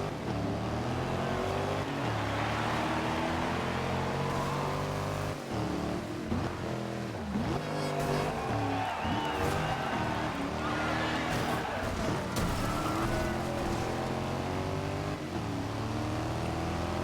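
A Ferrari engine in the racing game Forza Horizon 2, a loud, continuous roar that climbs and falls in pitch through repeated revs and gear shifts, sustained throughout without pause.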